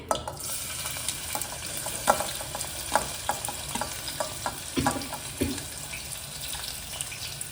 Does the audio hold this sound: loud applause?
no